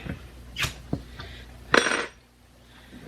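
A glass jar of home-canned beef being opened in a kitchen, giving a few sharp clinks and a short metallic lid scrape and pop, close and fairly quiet, with no talking.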